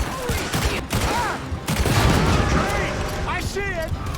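Loud bursts of gunfire in the video game Red Dead Redemption II, layered over rumbling in-game action, with characters shouting and talking over it.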